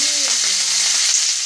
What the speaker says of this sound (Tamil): 3 பச்சை மிளகாய், 5-6 சின்ன வெங்காயம், 2 கொத்து கருவேப்பிலை எல்லாத்தையும் போட்டு நல்லா வதக்கிக்கலாம்